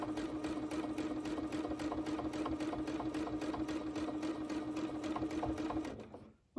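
A sewing machine runs at a steady fast stitch while free motion quilting a quilt border, its rapid even needle rhythm continuous and close before it stops abruptly near the end.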